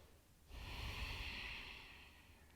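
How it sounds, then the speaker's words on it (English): Slow, deep breath drawn through the nose during a yoga flow, a steady airy hiss swelling and easing over a couple of seconds, close and fairly quiet with no talking. "Breathing so deeply through the nose."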